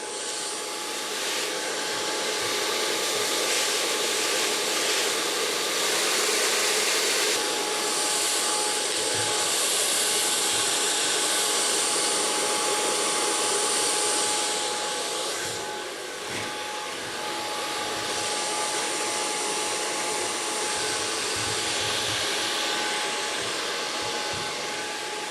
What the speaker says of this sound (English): So I'm gonna blow dry this and then show you the end result of this.